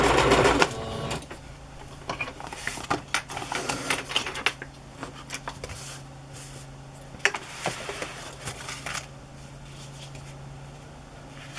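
A sewing machine runs a long basting stitch while pockets are made for a vintage lady journal. Bursts of rapid mechanical clatter start and stop repeatedly, close and fairly loud, with no talking.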